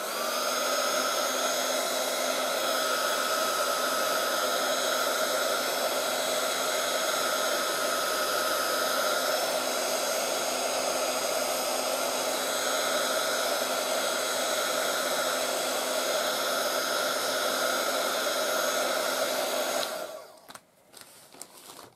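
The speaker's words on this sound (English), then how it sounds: "going to give it just a quick once over with the heat tool" A heat tool blows hot air in one steady, loud, continuous whoosh with a constant whine for about twenty seconds before switching off near the end, used for a Halloween craft project.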